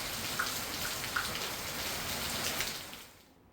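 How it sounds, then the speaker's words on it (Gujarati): Heavy rain pours down in a village in Kheda district, Gujarat, a dense, steady hiss of falling drops with a few louder splashes, before it cuts away to near silence at the end. "ખેડા જિલ્લામાં ધોધમાર વરસાદનું આગમન થયું છે"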